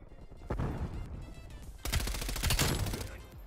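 Rapid bursts of MP5 submachine gun fire in a first-person shooter on a Crossroads hardpoint map, loud and close, with a short opening burst followed by a longer sustained volley.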